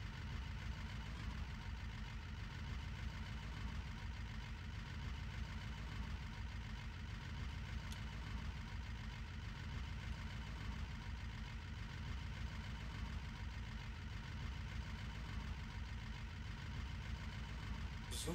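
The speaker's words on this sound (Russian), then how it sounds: "Звуки мотора есть что-то" A truck engine in the Hard Truck video game hums at a steady idle, a continuous low rumbling drone with a slight rhythmic throb, loud and unbroken, with no voices over it.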